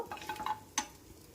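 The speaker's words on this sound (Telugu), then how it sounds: "బటర్లో మసాలాలు ఫ్రై చేసుకున్న తర్వాత" Spices fry in butter for a paneer masala curry, with a few faint, quick scraping and stirring clicks over a soft sizzle in a short, quiet moment.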